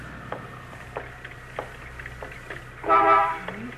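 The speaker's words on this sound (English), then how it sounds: "You honking for me, mister?" A car horn honks in a radio drama street scene, starting as a string of short, regular toots and ending with one longer, louder blast, with no voices.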